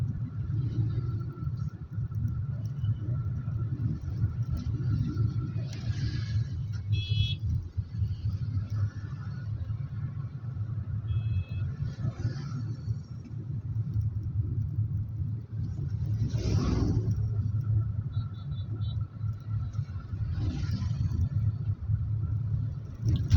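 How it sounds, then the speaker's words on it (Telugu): Road traffic on the Guntur to Parchur road: a constant low rumble of engines with vehicles swelling past every few seconds and several short horn blasts, heard from the roadside without talk. "ట్రాఫిక్ చాలా ఎక్కువగా ఉంటుంది అన్నమాట."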